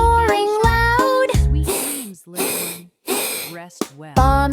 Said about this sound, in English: Mommy shark is snoring loud.